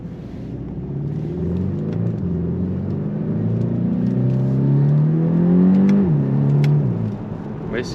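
A Volkswagen T-Roc 2.0 TSI with a DSG gearbox accelerating: a steady engine drone rises in pitch through the revs, drops sharply at a quick gearshift, then climbs again, heard from inside the car with no talk.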